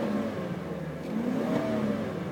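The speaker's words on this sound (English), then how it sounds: "You can give it some gas. You can watch the oil pressure go up." A 2005 Chevy Avalanche engine revs steadily as gas is given, a close, continuous mid-pitched drone that rises and falls in pitch across two smooth swells, heard alone without talk.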